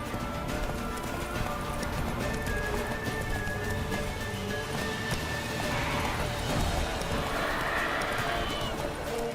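Roach, Geralt's horse in The Witcher 3: Wild Hunt, gallops with a steady clip-clop of hooves over continuous ambient game noise and music, with a brief whinny-like tone in the middle.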